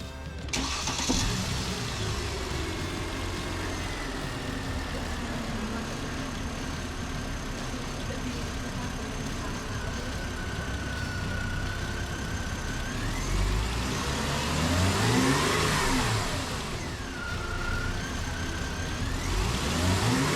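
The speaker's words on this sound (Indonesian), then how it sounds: "Sekarang kita coba nyalakan mesinnya." Mercedes-Benz S-Class W221 after a tumble flap repair: the engine cranks and starts, then runs steadily at idle with a couple of rising revs, close and continuous throughout.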